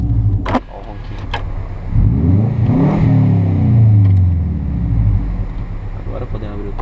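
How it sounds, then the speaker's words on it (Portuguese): A 2006 Subaru Forester XT boxer engine revs up and back down in a single close, loud rise and fall, with a steady idle rumble on either side and people talking over it. "O barulho do boxe, mano."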